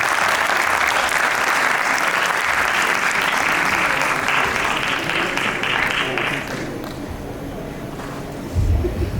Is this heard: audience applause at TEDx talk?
yes